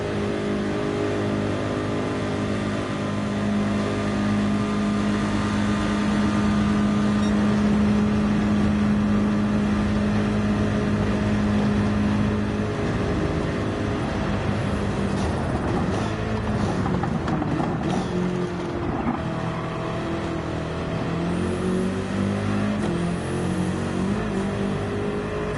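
A Lamborghini Huracan race car in Gran Turismo 7 gives a loud, sustained engine drone that rises and falls in pitch through revving and gear changes, constant and close throughout.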